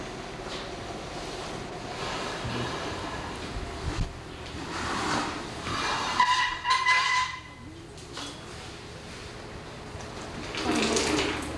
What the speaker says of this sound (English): Look at the wind and the rain come down.